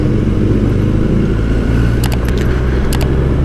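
A BMW S1000RR superbike on a road, its engine a steady, loud, close rumble that holds throughout, with a few brief higher clicks or jangles near the end and no talking.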